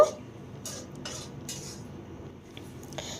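Spices with kasuri methi being mixed in a pan during a pumpkin vegetarian curry, several sharp metallic scrapes and clinks of a spoon against the pan, close and separated by quiet pauses.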